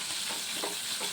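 Tempering ingredients fry in hot oil in a pan, producing a soft, steady sizzle with faint stirring scrapes, heard quietly and continuously without talk.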